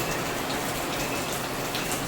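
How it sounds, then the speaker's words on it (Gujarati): Heavy rain falls in a thick, even roar of drops hitting surfaces, loud and continuous for the whole short stretch, with no voices. "વરસાદ સારો પડવા માંડ્યો છે."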